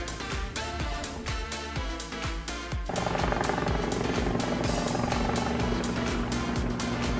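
A helicopter flies over the Gold Coast, its rotor thudding in fast rhythmic beats that settle into a steady, loud, droning whir, heard continuously without talk.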